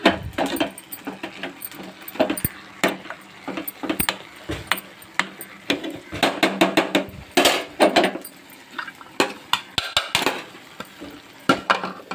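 A vegetable curry is being stirred and mixed in a pan over a gas flame, with loud, irregular scraping, knocking and clattering of the utensil against the pan in quick bursts, and no talking.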